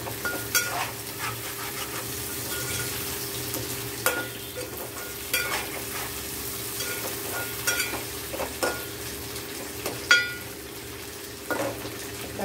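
Prawns and okra curry fries steadily in a pan, a low continuous sizzle under occasional scraping stirs and faint clinks, with no voices.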